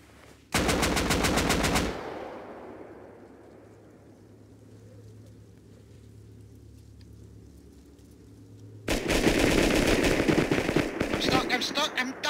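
Rapid video-game gunfire in Rust, loud bursts of machine-gun fire at the start and again near the end, with a quieter lingering rumble between them.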